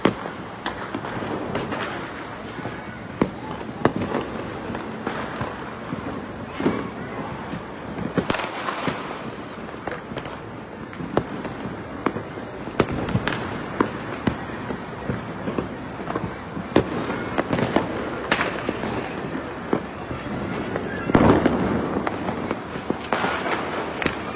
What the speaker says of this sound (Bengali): একদিকে যেমন আতশবাজি ফটকা এবং ফানুস উড়াচ্ছে